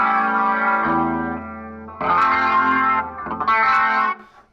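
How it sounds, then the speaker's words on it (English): Electric guitar played through a Leslie 122 rotating speaker cabinet at slow speed, sustained chords with a swirling, warbling chorus shimmer, several strummed changes ringing out loud and close before fading at the end. "We're going through my Leslie 122 cabinet at the slow speed."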